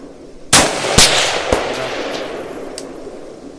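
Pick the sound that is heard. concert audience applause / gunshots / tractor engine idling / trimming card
gunshots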